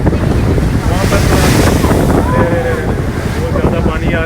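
Strong wind buffets the microphone while ocean waves surge and splash around a boat off Pattaya, Thailand, a loud, continuous rush with brief voices mixed in.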